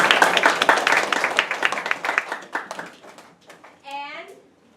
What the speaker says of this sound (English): So let's give them all a really big round of applause